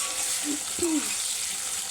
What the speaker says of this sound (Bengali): অল্প নুন আর হলুদ দিয়ে আলুটা ভাজা করে দিচ্ছি